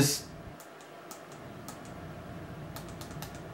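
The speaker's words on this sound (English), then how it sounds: "I love the button. I love how it has that clicky feel to it." Clicky fire button on a HellFire dual 18650 box mod pressed several times in an irregular series of sharp, close, crisp clicks over a faint steady background hiss.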